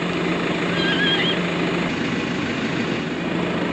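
A horse whinnies once, a short wavering call at middle distance, over steady outdoor rumble on a property where horses stand around a New Holland tractor.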